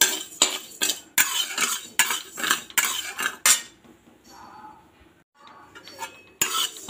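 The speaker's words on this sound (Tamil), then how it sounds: "அரிசி நல்லா பொரியிற அளவுக்கு வறுத்துக்கணுங்க" Rice dry-roasting in a hot pan, stirred with a metal spoon: repeated scraping and clinking strokes in quick bursts, close and fairly quiet, with short pauses between the rounds of stirring.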